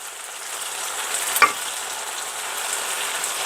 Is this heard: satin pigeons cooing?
no